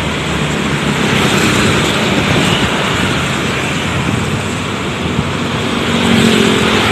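A Laju Prima bus drives past on a road, producing a loud, continuous roar of engine and tire noise mixed with surrounding traffic that stays close and strong throughout, with no voices.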